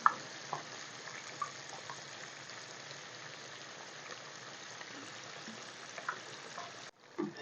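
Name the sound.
fish frying in oil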